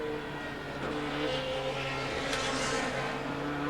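A 500-horsepower touring race car in the 1989 Australian Touring Car Championship at Mallala powers out of a corner, a steady loud engine drone with strong harmonic tones throughout, heard from the onboard cockpit.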